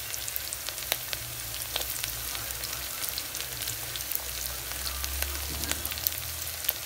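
Cut potatoes frying in a pan for a brown rice biryani, a soft steady sizzle with scattered crackles and small pops, fairly quiet and close, no voices.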